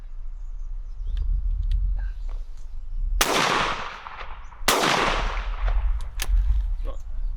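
An English shotgun fires steel shot outdoors: two loud, sharp blasts about a second and a half apart, each trailing off quickly, over low background rumble and distant ambient noise.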